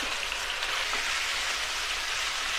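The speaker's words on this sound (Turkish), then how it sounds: "Hemen etlerin dışını mühürlemek için bu şekilde hızlı hızlı karıştırıyoruz" Beef pieces searing in a pan over full heat while being stirred quickly, a steady dense sizzle like rain on a surface, close and constant throughout with no talk.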